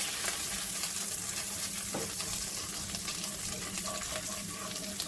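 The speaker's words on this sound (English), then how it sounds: "Going to melt that down and kind of scrape up the bits and pieces of the pork chop stuff on the bottom here." Butter melts in a pan with pork chop drippings, giving a steady close sizzle with a soft scraping stir partway through.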